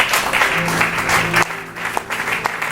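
A church congregation breaking into applause, brief loud clapping from many hands in a reverberant hall that eases off partway through.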